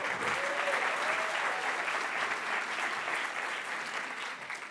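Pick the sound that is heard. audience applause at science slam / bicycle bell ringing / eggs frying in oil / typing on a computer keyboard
audience applause at science slam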